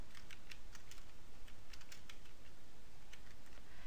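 Someone types a template name on a computer keyboard, a quick run of close, light key clicks in uneven bursts over faint background hiss, with no talking.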